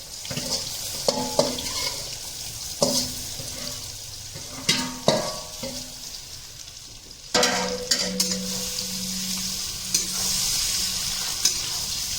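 Gram flour, with bitter gourd to follow, roasts in a pan under a low, continuous sizzle. Sharp spatula scrapes and stirring knocks recur every second or two, and no one speaks.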